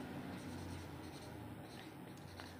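Pen scratching out notes during a Class 10 physics lesson on refraction of light, faint scribbling strokes that run continuously over a low room hum, with a voice talking lightly underneath.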